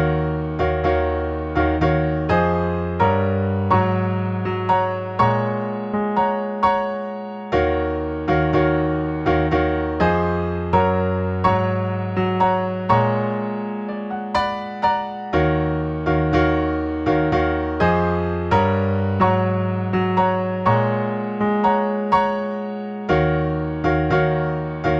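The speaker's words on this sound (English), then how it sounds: "We'll take a look at the first loop, which is the intro to the song." A piano plays the intro loop of a song, repeating sustained chords with struck notes in a steady rhythm, clear and close, without any voice.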